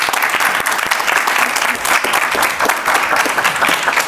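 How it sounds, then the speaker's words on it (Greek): Studio audience of a comedy game show breaks into loud, sustained clapping, many hands close and continuous for about four seconds, swelling slightly at times without stopping. "μπράβο Αλεξάνδρα, χειροκρότημα παρακαλώ!"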